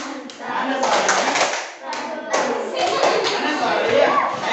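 Children's rhythmic 'tepuk mantap' clapping in a classroom activity, a lively burst of many hands clapping with a short pause midway, mixed with young voices.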